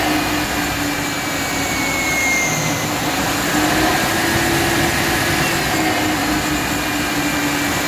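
A motor labouring under heavy load from a 100 amp battery charger, producing a continuous loud droning whine with steady tonal hum and no pauses.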